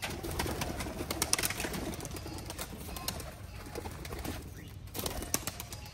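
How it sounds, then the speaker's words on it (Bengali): Domestic pigeons kept at a rural home alongside cows, goats, ducks and chickens, let out in the morning: soft repeated cooing and a few wing flutters, fairly quiet over light background noise. "এই কবুতরগুলো আমি সকাল সকাল ছেড়ে দিলাম"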